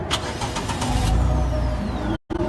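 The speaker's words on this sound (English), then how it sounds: "So if we get in here and I start it up," The engine of a Cat utility vehicle starts up and settles into a steady, fairly quiet running hum, with a brief cutout near the end and no talk.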